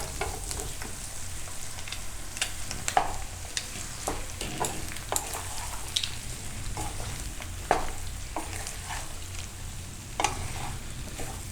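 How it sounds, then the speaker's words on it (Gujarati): A spoon stirs chili peppers and potato curry with green coriander in a frying pan, making steady soft sizzling with irregular scraping clicks and knocks throughout. "બધું મિક્સ કરી લેવું."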